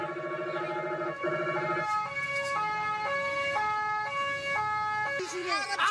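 An ambulance siren wailing through a crowd at a truck drivers' protest in Central Java, rising and falling in steady two-tone cycles, loud and near over crowd and traffic noise.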